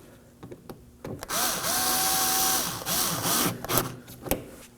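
Power drill snugging up radiator fan bolts on an Acura MDX, a close whirring burst lasting about two seconds with a rising pitch, set among scattered clicks and clanks of handling parts.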